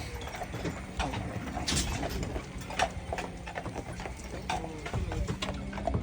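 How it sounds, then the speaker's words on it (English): Horse hooves clip-clop at a steady walking pace while pulling a carriage near Neuschwanstein Castle, nearby and clear, with faint voices and rolling mechanical noise underneath. "So we're taking the horses down in the carriage."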